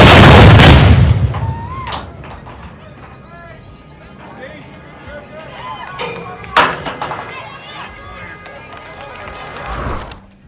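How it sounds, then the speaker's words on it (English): A mortar fired during a battery artillery demonstration at Fort Belknap: one loud blast at the start with a deep decaying rumble, then crowd murmur and talking. "we just witnessed this mortar being fired"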